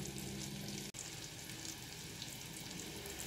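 A chicken piccata roulade browns in a hot pan, giving a continuous dense sizzle at a steady level, close by, with one momentary break and no voices.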